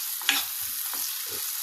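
Chicken liver simmering in cream in a pan, stirred with a few soft scraping strokes over a faint steady sizzle, close and alone.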